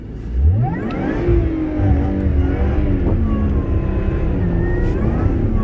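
A Lotus Evora's engine revs hard and continuously while the car spins donuts in snow during a Texas blizzard, a loud, close, sustained roar with rising and falling pitch sweeps and no talking.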